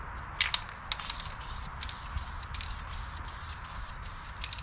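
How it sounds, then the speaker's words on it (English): A spray can hisses in short repeated bursts, fairly close, over a low background rumble, as paint is sprayed onto a Ford 302 engine for a 1988 Ford Bronco. "So I'm going to get to spraying."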